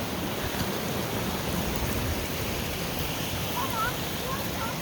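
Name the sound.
water flowing fast through a high water ditch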